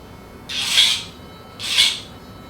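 A nail grinder buzzes against a Havanese dog's nails in two short passes of about half a second each, close and fairly loud, separated by a brief quiet gap.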